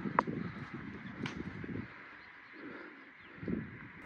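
Soft, low cooing from pigeons comes in a few faint bursts outdoors, with a sharp chirp at the start.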